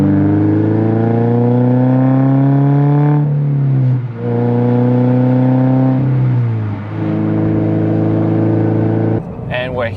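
Toyota GR86 / Subaru BRZ with an aftermarket axle-back exhaust revving, loud close engine note climbing in pitch in long pulls, dropping briefly between revs, with a sharp burble at the end.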